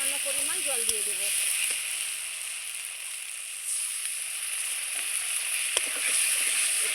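Spice masala fries in oil for a Bengali taro-stem curry, giving a steady, close hiss of sizzling throughout, with a brief voice near the start and occasional soft clicks of stirring.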